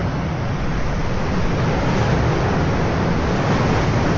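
Ocean surf washes steadily onto a Pangasinan shore, a broad, continuous rush of breaking waves heard close and fairly loud, with no voices over it.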